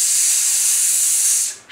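A group of voices imitates a tyre hissing, producing a loud, steady, breathy hiss that holds evenly and then fades out at the end.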